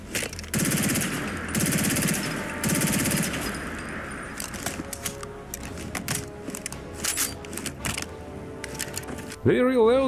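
An SR2 Veresk submachine gun firing in a modded Fallout 4 game: several long, loud automatic bursts up front, then scattered shorter bursts and mechanical clicks, with a voice speaking over the later shots.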